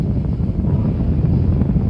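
Saturn V rocket engines roar at liftoff in the Spaceflight Simulator game, a loud, steady, unbroken low rumble with no pauses.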